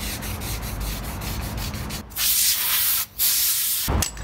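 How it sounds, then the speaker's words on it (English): Sandpaper and a sanding block work over the primed body of a 1956 Pontiac, close and steady: rhythmic rubbing strokes give way to broad, hissy scraping passes broken by short pauses. "today I'm going to start sanding and blocking this car down and getting it ready for paint"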